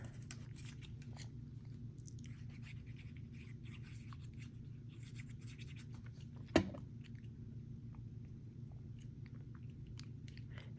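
A single crisp scissor snip through an old Christmas card sounds close and clear once, set against a steady low indoor hum with no other activity.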